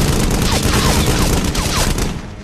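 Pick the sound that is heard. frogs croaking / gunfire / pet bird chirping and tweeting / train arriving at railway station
gunfire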